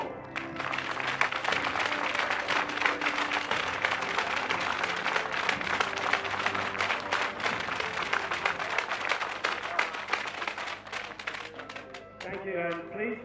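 Applause from a crowd for the athletes at the final of an archery national tour, a steady broad wash of clapping lasting throughout with music and a voice over it.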